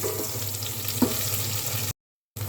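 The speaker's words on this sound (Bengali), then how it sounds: "এখন পেঁয়াজটা একটু ভাজা হোক," Chopped onion fries in hot oil, making a steady close sizzle with one soft stir-like tick. The sound cuts out briefly near the end, then resumes.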